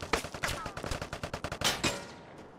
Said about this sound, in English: He would have to be in close to hit me with a goddamn machine gun